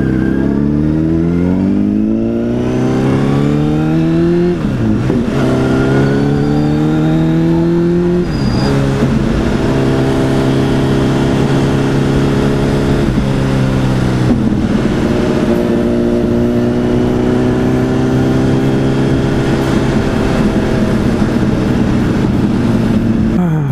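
A motorcycle engine revs and accelerates through repeated gear changes, its rising pitch climbing, dropping at each shift and climbing again, loud and close throughout with no talk.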